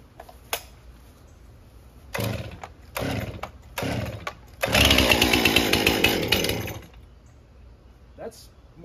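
A Stihl MS261c chainsaw with a dry, clean carburetor is pull-started several times: four short rasping pulls followed by a longer, louder two-second burst of cranking that fails to catch, each pull ending abruptly.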